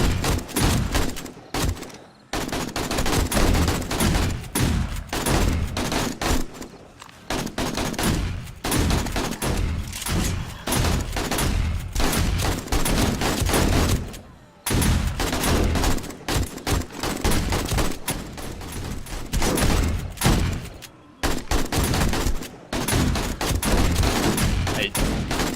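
Dense shotgun fire in the zombie survival game 7 Days to Die, rapid loud blasts merging into a nearly continuous barrage with a few short gaps.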